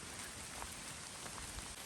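Heavy rain pours steadily at a campsite in Falakdeh, a dense continuous hiss of drops drumming on surfaces, loud and unbroken with no voices.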